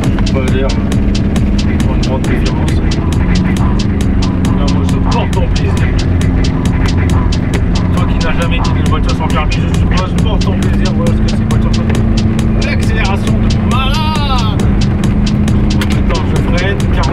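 An Aixam Crossover microcar with drum brakes drives with a steady, loud, buzzing engine drone that holds throughout, its pitch shifting slightly, while a person talks over it.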